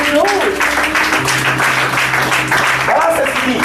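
A church congregation claps along under a preacher's loud amplified voice, with steady applause filling the background.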